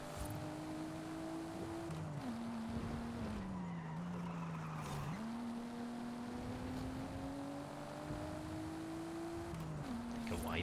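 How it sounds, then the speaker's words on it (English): Car engine in Forza Horizon 5, a steady droning tone rising and falling with revs through gear shifts, with tire skidding and road noise at a constant loud level throughout. "This car sounds good though."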